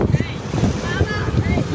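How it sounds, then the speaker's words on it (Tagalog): Strong gusty wind buffets the microphone outdoors at MGM in Taipa, Macau, a steady low rumble with rushing noise, while a person talks over it. "Ang hangin sa labas. Oh my God! Sobrang hangin."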